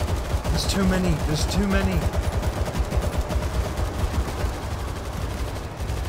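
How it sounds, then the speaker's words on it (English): An automated turret in World War Z, Jerusalem, fires a steady, loud stream of rapid shots at zombies throughout, while a voice speaks briefly over the barrage. "This turret's been mowing through them."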